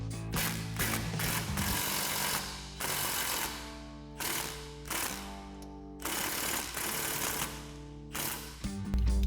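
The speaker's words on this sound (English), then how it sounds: "doing this lower mount first using our 21 millimeter socket and our 21 millimeter wrench" A socket wrench ratchets on the lower shock mount bolt of a Jeep Gladiator JT, close and crisp, in several bursts of rapid clicking separated by short pauses.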